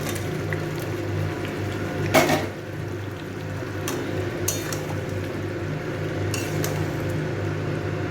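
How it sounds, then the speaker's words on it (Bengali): Fried chicken tipped into a pan of cooked spice paste for a yogurt chicken curry: a sharp metallic clank of utensil on pan, then a low, steady cooking hiss with a few lighter clinks. "এবার আমি ভেজে রাখা চিকেনটা দিয়ে দিচ্ছি।"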